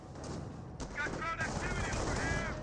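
Grenadier rifle and machine-gun fire in Company of Heroes, a rapid crackle of shots amid battle noise with faint whistling and ricochet-like tones, fairly quiet and steady.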